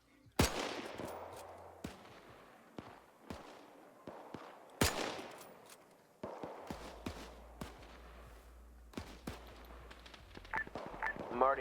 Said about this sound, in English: I'm already hearing gunfire.